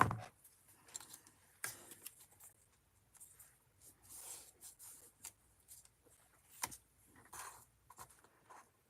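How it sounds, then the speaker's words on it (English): Scissors snip paper during a scrapbooking session, a string of short, close, quiet cutting clicks and rustles spaced irregularly, with no voices. "So I'm just going to snip that one right there."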